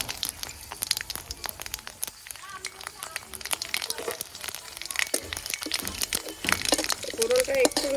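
Dried red chillies, fenugreek seeds, black mustard seeds and bay leaves crackle and spit in hot oil, a dense run of sharp pops and crinkling sizzle that builds toward the end.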